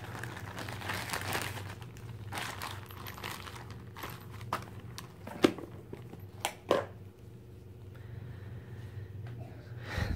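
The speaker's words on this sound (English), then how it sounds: "Quickly unwrap this pistol." Crinkling plastic and paper packaging as a Zoraki 2914 blank pistol is unwrapped, quiet rustling for about ten seconds with a few sharper clicks and knocks near the end, no voices.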